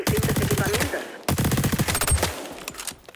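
Rapid automatic gunfire from a weapon in the video game XDefiant, two loud close bursts of fast evenly spaced shots separated by a brief pause.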